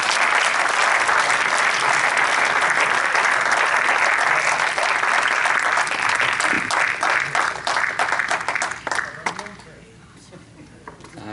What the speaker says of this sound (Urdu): تو آپ کی زوردار تالیوں کے ساتھ